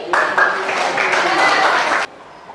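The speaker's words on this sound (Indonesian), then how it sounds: "Tepuk tangan buat Susi." A short burst of clapping from a small group in a classroom, loud and close, stopping abruptly after about two seconds.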